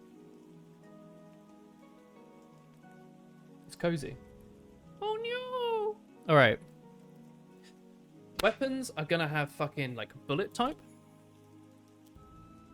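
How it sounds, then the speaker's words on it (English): A faint, steady wash of rain pattering on a surface plays in the background throughout, while someone speaks in short bursts over it and briefly exclaims. "This is the sound of rain."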